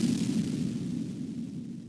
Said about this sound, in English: The sound of an explosion shook the ground beneath my feet.